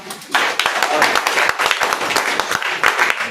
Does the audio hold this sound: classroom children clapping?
yes